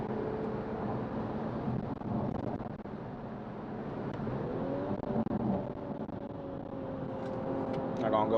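A car engine drones from inside the cabin while driving, its pitch rising and falling as the automatic transmission shifts gears late, with steady road and wind noise throughout.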